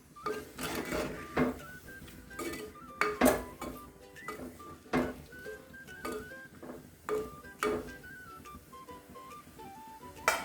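A spoon clanks and scrapes against a metal pot while a turmeric-spiced curry is stirred, ending with the lid set on top. The sharp, irregular metallic knocks ring out close over a soft melodic backing.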